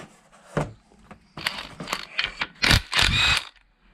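Scattered metallic clinks and short ratcheting clicks come up close as a wrench undoes loosely torqued bolts on a 13B J-port rotary engine, in irregular bursts with brief pauses.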